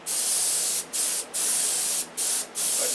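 Red trim paint sprays from an aerosol can in loud hissing bursts, each lasting under a second, with short gaps between them.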